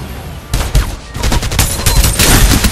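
Rapid bursts of automatic gunfire from the Farlight 84 battle royale game start after a short pause and continue densely, loud and sustained, with overlapping shots that fill the rest of the clip.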